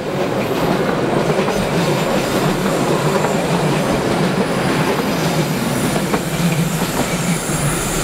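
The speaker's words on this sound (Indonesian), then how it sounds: "Ternyata ini adalah kereta api Mutiara Selatan" The Mutiara Selatan passenger train rumbles past close by, loud and continuous, with the rhythmic clatter of wheels over rail joints and a faint metallic squeal.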